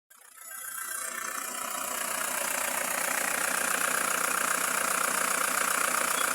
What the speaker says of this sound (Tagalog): So umandar na po ang makina